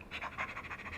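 A human voice artist imitates a dog panting, giving rapid, rhythmic breathy huffs close to the mic with no other sounds.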